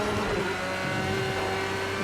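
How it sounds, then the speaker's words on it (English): A Porsche GT3 engine screams at high, steady revs on the Nürburgring Nordschleife, holding a loud, sustained note against the rev limiter with a constant droning tone throughout. "Just hit the limiter there for a second."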